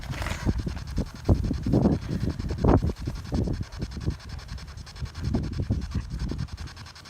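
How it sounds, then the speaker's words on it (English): Blustery wind buffets the microphone in uneven low gusts, with faint rustling beneath, loud and close throughout. "it's very windy and I don't want my cards to blow away"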